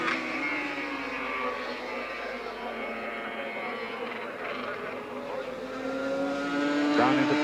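A 350cc racing motorcycle at Brands Hatch in a 1981 race, engine wailing and rising in pitch as it shifts up through the gears, loud and sustained with a brief drop before climbing again.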